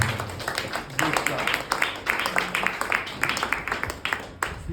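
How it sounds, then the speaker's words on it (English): Audience applause at a Nigerian Library Association annual general meeting in Kwara State, a dense patter of many hands clapping steadily for several seconds, close and fairly loud in a hall. "Please, a round of applause for her"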